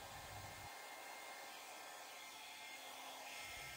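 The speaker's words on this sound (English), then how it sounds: "I'm going to come down with the blow dryer aimed sideways and blow that black paint in towards the pink." A hair blow dryer aimed sideways pushes black acrylic paint across a fluid art pour, producing a loud, steady, continuous airy roar close to the microphone for the whole stretch, with no voices.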